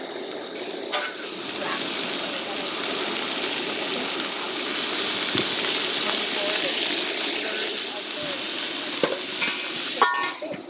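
Burgers and fries frying on a camping stove at an overlanding campsite beside a pop-up camper: a steady, close sizzle runs throughout, with a few clinks and knocks of cooking utensils on top.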